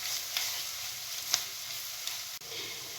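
Flour cooks in a pan as the base for a hake sauce, giving a soft, even sizzle close by with a few faint ticks and stirring scrapes, and no one speaking.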